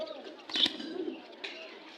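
Pigeons at a busy pigeon market in Jinjira, Bangladesh, give brief cooing and chirping calls, with one brighter call standing out near the middle and fainter calls later, over a low crowd murmur.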